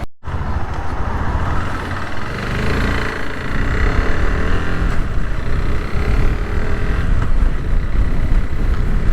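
A KTM 390 Adventure motorcycle ridden on an open road, heard as a loud continuous engine drone mixed with heavy wind rush, steady throughout with no talking.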